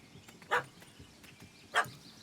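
A puppy in The Witcher 3: Hearts of Stone gives two sharp barks about a second apart over a quiet game backdrop.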